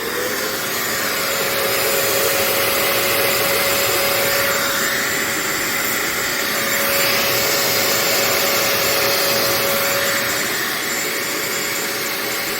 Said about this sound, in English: It actually works on a wet vac.